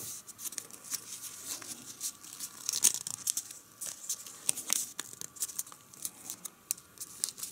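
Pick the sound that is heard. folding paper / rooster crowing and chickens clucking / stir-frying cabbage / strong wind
folding paper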